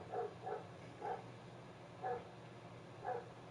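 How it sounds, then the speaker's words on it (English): Several dogs bark at night in a residential back area, five short bursts of barking spaced irregularly and heard from a moderate distance over a low background hum. "My sister-in-law's all them dogs barking."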